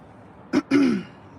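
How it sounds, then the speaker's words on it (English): A single close throat clearing in two quick bursts, the second longer and rougher, with quiet room tone around it. "let me clear my throat."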